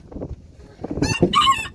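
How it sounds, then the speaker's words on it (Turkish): Rooster crowing once close by, a loud strained call rising out of some low clucking and rustling, with no talking. "Horozumuzu iki gündür salıyoruz"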